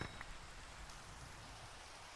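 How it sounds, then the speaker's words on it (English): Rain ambience in the Minecraft video game: a soft, continuous hiss of falling rain with faint scattered drops, quiet and even throughout, with no voices. "got the thunder going on, a little bit of rain, all the good stuff."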